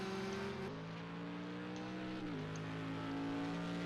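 A race car engine drones at Mulsanne in a racing video game, a steady tonal whine that steps down in pitch at gear changes around the one-second and two-and-a-half-second marks, heard fairly faint and continuous.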